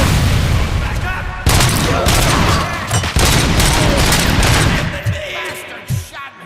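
Gunfire bursts from RoboCop: Rogue City, loud and dense, with sharp volleys starting near the one-and-a-half-second mark and continuing in repeated cracks and booms, mixed with a voice.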